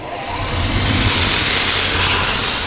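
A shoe repair machine runs during a Commando heel replacement on a Trickers shoe or boot, giving a loud, steady motor whir that swells slightly after the first second and holds without talk.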